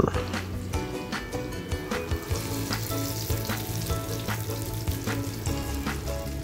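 Eggplant omelette (tortang talong) frying steadily in a pan, a dense continuous sizzle and crackle with light rhythmic pops, close and fairly loud, no talking.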